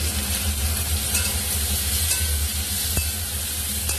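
Chopped onion, tomato and green chilli frying in a pan, a loud, continuous close sizzle with faint stirring scrapes and a couple of small clicks, without speech.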